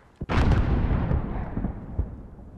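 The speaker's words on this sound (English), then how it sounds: "Alex, there's another Alcatala mortar team." A single heavy mortar blast booms close by in a Modern Warfare campaign battle, followed by a long rumbling decay.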